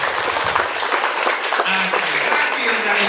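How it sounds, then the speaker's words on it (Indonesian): Applause from an audience at a church youth jamboree gathering, steady clapping across the whole stretch with some crowd noise and voices mixed in. "Tepuk tangan."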